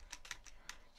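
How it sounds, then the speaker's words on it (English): Rickety computer keyboard tapped in a few quick, faint, close clicks: four sharp keystrokes over a second, alone with no talk. "The keyboard's a bit rickety today."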